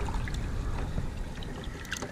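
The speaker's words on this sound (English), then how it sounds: "I got the water coming in this bucket" Water from a hose splashes and gurgles steadily into a car wash bucket, a close, continuous trickling rush with faint bubbling, heard alone.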